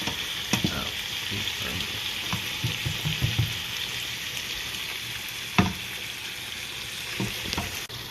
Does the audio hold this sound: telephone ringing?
no